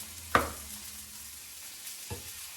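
Cherry tomatoes frying in a pan with a knob of butter, a soft low hiss with one sharp clatter near the start and a faint knock later, no talking.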